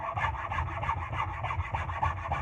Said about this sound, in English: So now I'm going to smooth it out a little bit. This is a Nicholson wood rasp